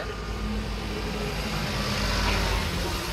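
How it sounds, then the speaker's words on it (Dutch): A bus drawing near on a street, a steady low engine rumble and road noise that swells slightly toward the end, continuous and fairly close. "Oh, er komt een bus aan."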